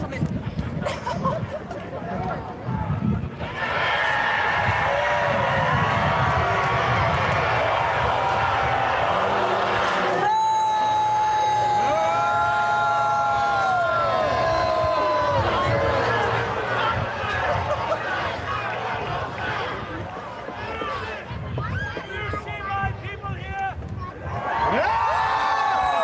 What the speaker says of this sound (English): There's not much I could say to be heard over this crowd